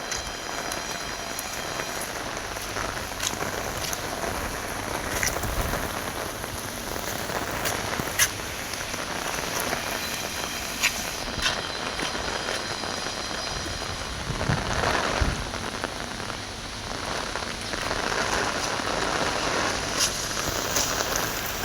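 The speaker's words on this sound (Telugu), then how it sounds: "నిన్న తుఫాను చెప్పి ఇవాళ వర్షం పడుతుంది గ్యాప్ లేకుండా" Heavy, continuous rain pours during a storm in Chennai, a dense steady hiss of drops hitting surfaces with no letup, loud and close throughout.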